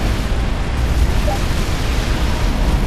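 Cannon towers in the video game Defense Grid 2 fire a dense barrage of booming explosions that blur into a continuous rumbling roar, loud and heavy in the low end throughout.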